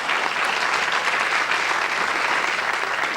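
A studio audience on a late-night television talk show applauds steadily and loudly, a dense, even wash of clapping that fills the whole stretch without a break.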